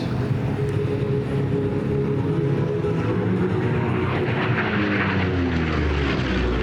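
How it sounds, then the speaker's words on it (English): A P-40 Warhawk propeller fighter plane flying past at an airshow, its piston engine giving a loud, sustained drone with a slowly shifting pitch as it passes. "Here he comes back down to that iconic aircraft, the P-40 Warhawk."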